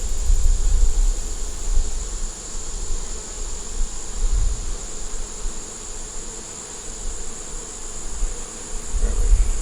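Honey bees buzz around an open hive during an inspection, a dense continuous drone that rises and falls slightly, with occasional low thumps of handling.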